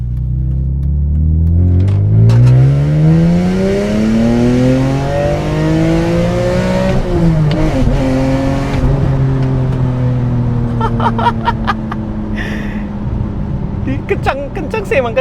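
A two-door sports car from the 2000s accelerates hard, its engine climbing loudly through rising revs, dipping briefly at a gear change, then pulling again, with an excited voice talking over it near the end.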